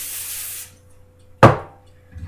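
A single short hiss of cooking spray onto a foil-lined pan, close and fairly loud, following a softer rushing noise at the start; otherwise quiet.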